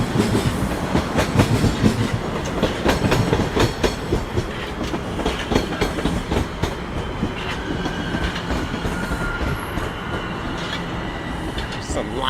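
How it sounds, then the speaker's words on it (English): Toronto Line 1 subway trains pass each other in Midtown, a loud rumbling roar with clickety-clack wheel beats and brief squeals, continuous throughout, with faint voices in the background. "Some Line 1 trains crossing one another, or passing."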